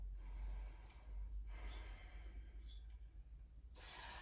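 Heavy breathing during a goddess pose in a yoga flow, with close, audible inhales and exhales, including a couple of sharp gasp-like breaths over a low background hum.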